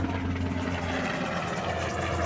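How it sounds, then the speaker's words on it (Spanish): A helicopter flying over, a loud steady rotor drone with deep throbbing hum filling the whole stretch with no talk. "perdón que pasa un helicóptero"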